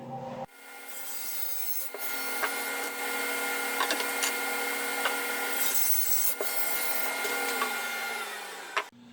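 A woodworking machine in a shop cuts a 3/8 inch tongue in wood, giving a loud, steady whining, rasping drone with a constant motor tone that starts abruptly and runs throughout with small ticks and variations.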